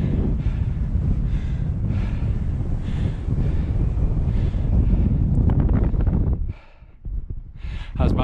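Strong wind buffets the microphone on Skiddaw's cloudy, chilly summit, a loud continuous roar that briefly dips near the end before gusting back.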